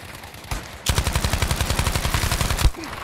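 A rapid burst of automatic gunfire in Battlefield 5 rattles steadily for about two seconds after a single earlier shot, loud and close, with no talking.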